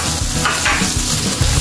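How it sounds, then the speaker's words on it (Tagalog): Onions sautéed in a little extra virgin olive oil stirred in a pan, a close, steady sizzle with scraping stir strokes throughout, no talking. "Ihahalo ko na itong sibuyas."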